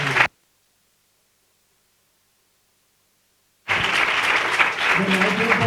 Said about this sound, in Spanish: Os pido un fuerte aplauso, ¿verdad?